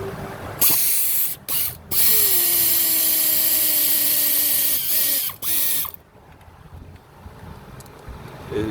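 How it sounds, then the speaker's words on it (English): Ratchet wrench with an 8mm six-point socket loosening Torx intake manifold bolts on a 1.4L Chevrolet Cruze: loud, close, continuous rapid clicking in several long bursts with brief pauses, then fading to quiet. "8mm regular 6-point socket will fit those Torx just fine, and it will remove those bolts."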